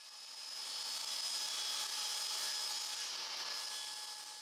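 Handsaw cutting squares of wood slightly larger than a 12-inch disc for a homemade disc sander, a steady continuous rasping stroke held close and fairly loud for several seconds.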